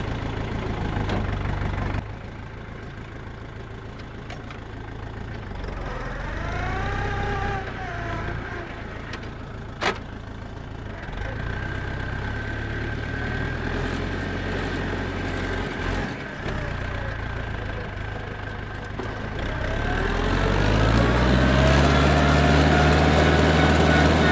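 A poorly running tractor engine idles and chugs steadily for a long stretch, shaking in second gear, with a low throbbing rumble that swells louder near the end as it revs.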